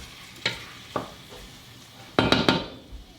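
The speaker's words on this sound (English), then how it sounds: "Mix together and let this cook." Chicken vindaloo seasoned with turmeric, fenugreek and salt is mixed in a pan, a spoon giving a few sharp knocks and a quick burst of scraping strokes over a soft background sizzle.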